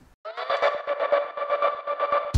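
A filtered, sliced frozen-reverb scream sample: a sustained, harmonic tonal drone chopped into rhythmic pulses of steady loudness, closing with a sharp bright burst.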